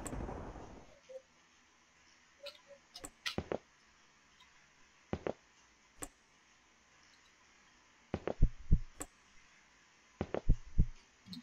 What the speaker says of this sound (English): Okay, my heartbeat is strange.